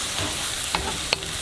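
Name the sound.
pan sizzling while stir-frying ramen noodles with cabbage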